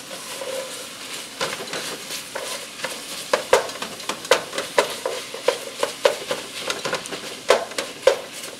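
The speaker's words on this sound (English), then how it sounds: "Then we'll take the onion in. Just cook these a little bit" Onions cooking in a pan, a soft continuous sizzle broken by repeated scraping stirs in an irregular rhythm, close by and with no talking.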